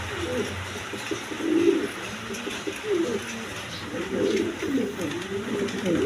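Breeding pigeons kept for eggs and chicks coo steadily in low, rolling phrases that overlap and repeat throughout, close and fairly loud.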